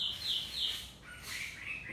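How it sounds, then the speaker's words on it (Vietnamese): Birds chirp and sing outdoors in Da Lat, a few short high tweets and warbling phrases repeating over quiet background, fairly faint and distant, with no voices. "nó lại còn có chim các loài kiểu chim hót đấy chứ"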